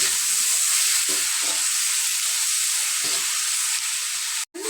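Onion and ginger sautéing in a pan, a continuous loud hiss and sizzle with a few soft stirring knocks, close by and steady until a brief cut near the end.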